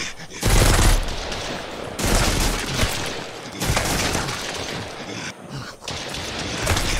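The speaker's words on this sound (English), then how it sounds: "There's Rachel out there just firing away." Gunfire in the survival game Mist Survival, with loud, close shots and bursts arriving in several clusters with short gaps, some sharp and cracking. No one speaks.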